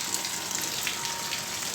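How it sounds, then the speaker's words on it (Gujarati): Heavy rain pours down in a dense, continuous hiss like gushing water, loud and steady from start to finish with no voices. "ફૂલ વરસાદ આવ્યો તો તમને દેખાડો"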